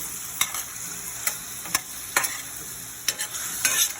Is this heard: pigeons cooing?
no